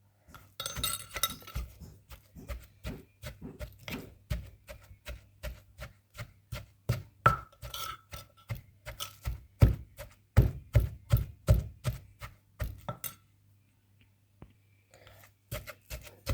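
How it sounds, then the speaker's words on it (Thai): Chili paste for Isan-style nam prik ta daeng with shrimp paste, pounded in a mortar and pestle: a steady run of sharp, close knocks and clinks in an even rhythm, pausing briefly near the end, with no voices. "ตำไปเรื่อยๆ จนเหนียวละเอียดพุ่นละค่ะ"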